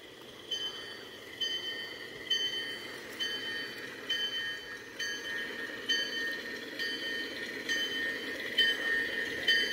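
A small model train switcher locomotive rumbles steadily along the track, with a repeating metallic clicking and faint high squeals over the low running noise.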